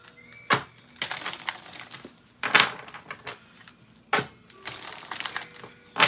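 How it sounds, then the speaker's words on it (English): Tarot cards being riffled and shuffled in several quick bursts, crisp papery flutters separated by short pauses, close up. "One more shuffle."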